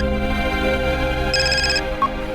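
A phone rings briefly in a quiet indoor home setting at night, a short electronic ringtone burst heard once over a steady low room hum, with no talking.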